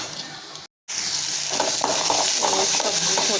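Spinach and paneer vegetable frying and sizzling in a pan, a steady close hiss with soft stirring scrapes, briefly cut by a short gap before the sizzle resumes.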